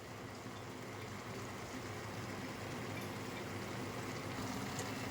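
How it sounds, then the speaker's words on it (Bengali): Papaya pieces lightly boiling in a small amount of water for a chutney, giving a steady soft bubbling hiss that runs unbroken and close by, with no voices over it. "দেখুন, অল্প একটু জলের মধ্যে হালকা সিদ্ধ বসিয়েছি।"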